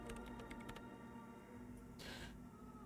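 Typing on a computer keyboard in the game Disco Elysium, a quick cluster of light key clicks at the start followed by a lone brighter clack, faint over a steady machine hum.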